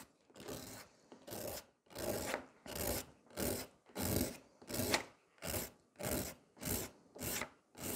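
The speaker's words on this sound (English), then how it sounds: "So I'm filing away" A gel nail is filed in a steady, even rhythm of about a dozen short, close rasping strokes, each a soft gritty scrape with a brief pause between.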